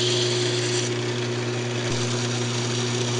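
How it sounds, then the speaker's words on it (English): Sanding on a wood lathe as a turned wooden mushroom box spins: a steady, even hum and rub of motor and abrasive runs through the whole stretch without pause, fairly close and moderately loud, with a small knock near the end. "I'm just going to sand it up."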